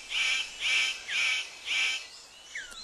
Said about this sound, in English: The superb bird of paradise calls to attract the female.